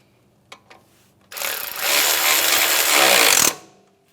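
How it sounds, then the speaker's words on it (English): A power tool runs in a loud burst of about two seconds, tightening a 10mm bolt on the strut assembly of a 2007-2013 Acura MDX, preceded by a couple of small clicks. "We can put our 10mm bolt in place. And tighten that down."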